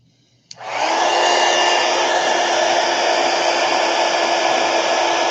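A hair dryer is switched on with a click and then blows loud and steady at close range to dry paint on a drawing, a constant whooshing roar with no talking.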